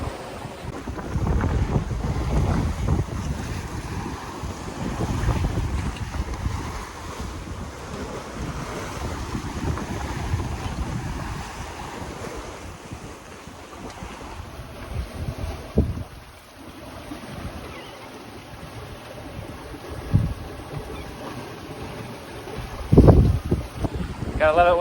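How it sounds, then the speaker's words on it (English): A sailboat runs downwind at about five knots on a gloomy open sea: steady rushing water and hull wash mix with gusting wind buffeting the microphone, continuous and fairly loud throughout. "We are sailing downwind at about 5 knots"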